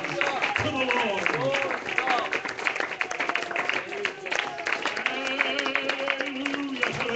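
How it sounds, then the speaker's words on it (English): A church congregation claps along during an evening service, steady hand claps blending with music and voices that carry on throughout. "Clap your hands to the Lord."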